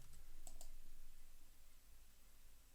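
Two quick, quiet computer mouse clicks close together, clicking the add button in course-booking software, over faint steady background hum.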